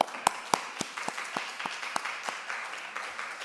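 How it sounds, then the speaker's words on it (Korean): A small church congregation claps in worship after praise music, sparse, uneven individual claps ringing out, some louder and close, tapering off toward the end. "우리의 찬양과 특별한 연주를 하나님 앞에 다시 한번 박수로서 영광 올려드립니다."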